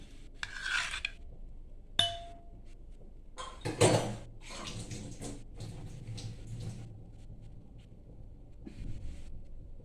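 A steel plate and a pot clank and scrape inside a pressure cooker holding water, with a sharp metallic clink, a louder knock and rubbing, all close and fairly quiet.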